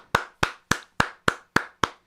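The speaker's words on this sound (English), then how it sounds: "Okay, I'll applaud it for you" One person claps hands alone, eight sharp evenly spaced claps in a steady rhythm, close and clear with brief quiet gaps between.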